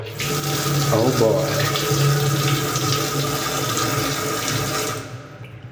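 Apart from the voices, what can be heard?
water running from a kitchen tap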